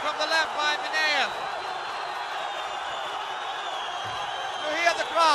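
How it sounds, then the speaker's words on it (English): Spectators at an MMA bout between Magomed Ismailov and Vladimir Mineev roar loudly and steadily, with a commentator's excited voice over the noise at the start and end. "You hear the crowd. They already gone mad."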